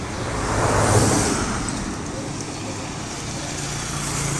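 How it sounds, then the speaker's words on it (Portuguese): Truck driving past on a residential street, a broad roadway whoosh swelling near the first second then easing into steady traffic noise, moderately loud with no clear speech. "Segue direto esse caminhão aí"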